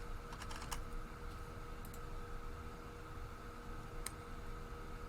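Faint computer keyboard typing while a tweet is entered, a few scattered short bursts of clicky keystrokes over a quiet room hum, with no one speaking.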